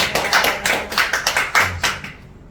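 Hands clap in a steady, quick rhythm during a Korean church Sunday service, close and distinct, about eight beats before fading out.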